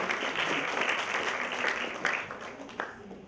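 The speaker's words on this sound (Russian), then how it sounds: "дети достойны еще более громких аплодисментов" A community audience applauds children who have just performed at a celebration, dense continuous clapping filling the room at a fairly even level.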